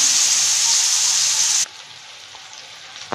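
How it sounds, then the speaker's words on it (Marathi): Tomatoes and onions sautéing in a pan for an egg masala curry give a steady, close sizzle for about a second and a half, then drop abruptly to a faint background hiss with a small clink near the end. "2 मिनिट परतायचे चांगले।"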